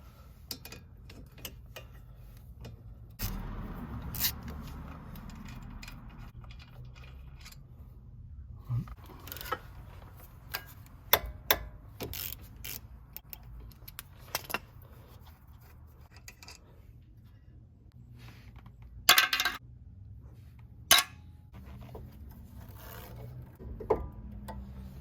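A 17 mm wrench works loose the brake caliper bracket bolt on a 2016 Mazda 3 front brake, giving sparse, close metallic clicks and scrapes separated by quiet gaps.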